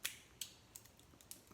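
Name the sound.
plastic packaging being pulled open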